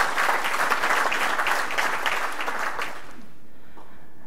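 Applause from a conference audience at a developer meetup in London, a dense wash of many hands clapping steadily for about three seconds, then abruptly dying away into near silence.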